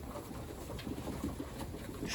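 Pigeons in a pigeon loft give soft, low coos, a few faint murmurs set against a steady background hum.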